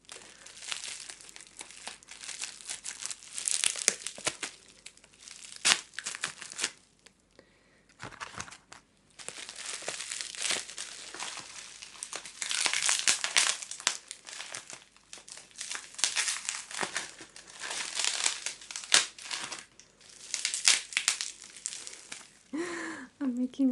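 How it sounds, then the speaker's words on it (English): Crinkling bubble wrap being handled while a parcel of British goodies is unboxed, with dense, close crackling bursts coming in waves, a brief pause near the middle and soft speech in places. "I'm making a lot of noise with the bubbles."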